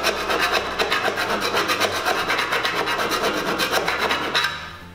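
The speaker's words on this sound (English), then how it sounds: "Filing off any sharp edges we may have created until we can run our finger down it and it feels smooth." A hand file rasping the cut edges of 4 mm cable tray, loud close rhythmic back-and-forth strokes repeating steadily for several seconds before stopping, no talking.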